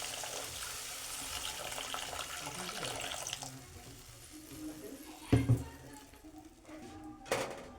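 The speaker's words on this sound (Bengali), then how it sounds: "এবার জল দিয়ে দেবো পরিমাণ মতো" Water from a tap pours into a pan of braised fish curry in a home kitchen, a steady broadband rush for the first few seconds that then thins out, followed by a couple of sharp clunks of utensils.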